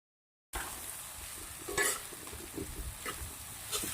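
Spices are stirred into pea curry in a pan, a steady scraping and soft sizzle with a few louder strokes, close and alone without talk.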